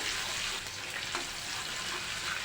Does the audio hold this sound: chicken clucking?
no